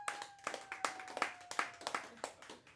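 Audience clapping at a stand-up comedy set, with a steady run of crisp, evenly spaced claps at moderate loudness and no voices over them.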